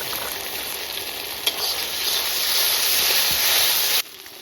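Tomatoes hit a hot pan of frying onion and ginger-garlic paste while crab mandi is cooked village style; a loud, steady sizzle swells slightly midway, then drops sharply near the end.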